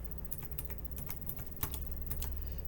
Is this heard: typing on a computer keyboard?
yes